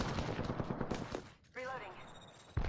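Gunfire in an Apex Legends match, a dense burst of rapid shots in the first second and a half, then a pause filled with a short electronic tone before another loud shot hits at the end.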